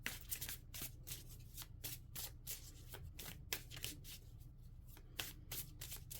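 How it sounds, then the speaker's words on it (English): A deck of cards is shuffled and pulled for a card reading, giving close, soft riffling flutters and snapping card edges in quick repeated bursts, with no voice. "let's go ahead and pull some more cards here"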